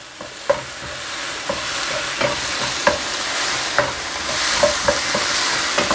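Red chili and coloured capsicum pieces fry for a Thai green curry, with a steady hiss of hot oil and a spatula knocking the pan in regular, close strokes about twice a second, no voices.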